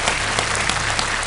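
A KBC studio audience breaks into loud, dense, continuous applause that fills the whole moment without a break.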